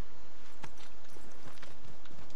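Hooves clip-clop at an irregular pace as a horse moves in Assassin's Creed III, the clear knocks standing out over a low, steady background rumble.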